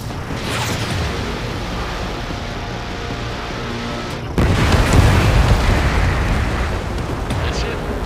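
Ace Combat 7 aerial combat: an enemy bomber is shot down, leaving a sustained loud rumbling roar that jumps to a heavier, denser burst midway and continues to the end.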